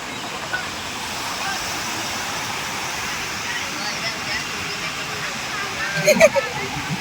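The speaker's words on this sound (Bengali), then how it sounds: "আর একটু ঢেউয়ের আওয়াজ আপনাদেরকে শোনায়।" Sea waves on crowded Puri beach give a steady, broad roar of surf with a brief splashing swell near the end, while voices murmur faintly in the background.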